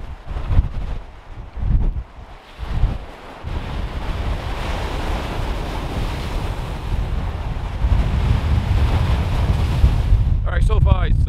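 Strong storm wind roars across a Lake Erie beach as heavy waves crash and surge against a shoreline wall, a dense, continuous rumble with gusts buffeting the microphone, building louder toward the end.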